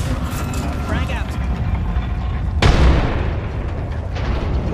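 A frag grenade detonates in the Apex Legends shooter, a sharp boom midway through that decays into rumble, set amid ongoing gunfire and game sounds.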